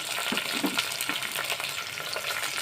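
Onions and mint leaves fry in hot oil for a curry, a continuous crackling sizzle with soft stirring scrapes, close and without talk.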